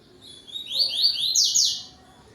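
A double-collared seedeater, or coleiro, sings a loud, close series of four or five bright, rising whistled notes in quick succession, clear against a quiet background.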